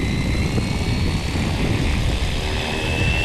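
Rotors of an RC AirWolf helicopter from Fly Wing whir as they spin up, a steady, fairly loud buzzing drone with a faint high whine, close and continuous with no speech.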